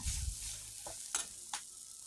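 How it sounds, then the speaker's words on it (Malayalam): Onions, chili and coriander fry in a pan for a squid roast, giving a quiet, steady sizzle with a few scraping stirs of a spoon breaking through. "മുളകും മല്ലിയൊക്കെ നന്നായിട്ട് മൂത്ത് വരുന്നുണ്ട്."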